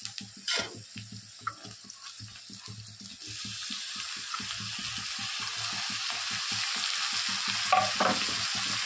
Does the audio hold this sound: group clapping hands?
no